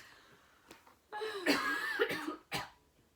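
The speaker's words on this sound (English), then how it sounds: "I should cough for the rest of your video" A fit of coughing up close, a sustained hacking stretch with a few sharper coughs around it.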